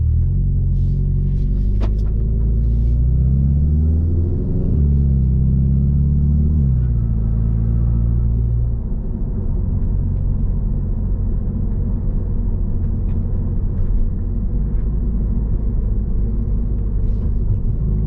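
Inside a car with the windows closed, the exhaust drones as a deep continuous rumble, rising and falling through a couple of revs early on before holding a steady low hum.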